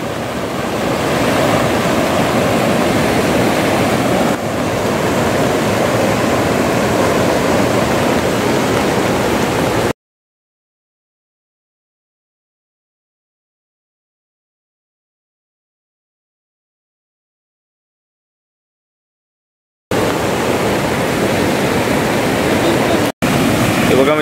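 A rain-swollen Konkan river in heavy monsoon rain rushes in a loud, dense, continuous roar that cuts out abruptly for several seconds before resuming.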